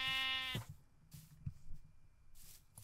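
A Minecraft sheep gives a single loud, wavering bleat at the start, cutting off after about half a second, followed by faint thuds and low background game noise.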